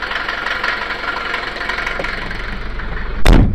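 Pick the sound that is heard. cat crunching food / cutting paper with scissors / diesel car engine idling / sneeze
diesel car engine idling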